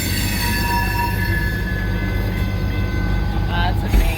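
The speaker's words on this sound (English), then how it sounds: "That train kind of sounds like my belt" A train rolls past in Houston with a steady, loud rumble, while thin, high wheel-squeal tones run throughout and a short thump lands near the end.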